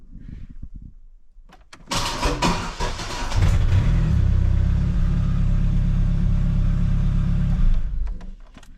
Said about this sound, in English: All I did was let up on the clutch a little bit, and it started right up.